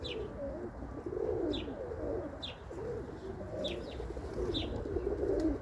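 Soft, repeated pigeon coos drift over a low, steady background hum, with faint chirps of other birds now and then.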